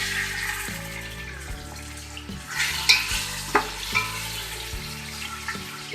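Beef chunks, 500 grams, frying over a low flame with golden browned onions in a pan, a steady sizzle running throughout with some stirring scrapes and a few louder knocks and clatters partway through.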